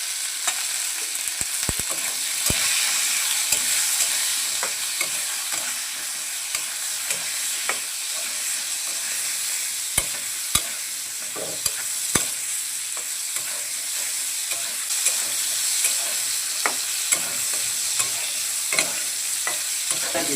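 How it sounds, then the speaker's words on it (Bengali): Pointed gourd frying in oil in a pan for a Bengali vegetarian dish with rice, a steady close sizzle with frequent sharp crackles and stirring scrapes running throughout, no talking. "পটলগুলোকেও লাল করে ভেজে নিচ্ছি।"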